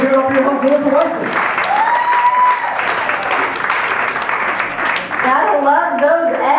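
Audience at the Broadway Comedy Club main room applauds its host, a loud, continuous burst of clapping and cheering with a voice calling out over it.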